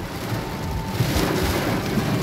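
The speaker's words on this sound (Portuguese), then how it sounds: "Mas é muita chuva, a rajada de chuva aqui tá forte, viu?" Heavy wind-driven rain pours down on a town in Brazil's Northeast, with thunder rumbling beneath a dense, steady hiss that stays loud and close throughout.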